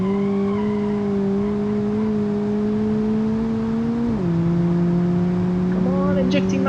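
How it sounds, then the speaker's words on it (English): Turbocharged car engine in BeamNG.Drive revving hard and steady, a loud sustained drone that dips in pitch partway through and then holds, with brief squeal-like sounds near the end. "I'm pushing the turbocharger so hard."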